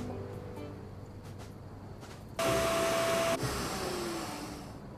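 A vacuum tool in My Time at Sandrock switches on with a sudden loud whooshing roar and steady whine that lasts about a second before cutting back, set against quieter game ambience.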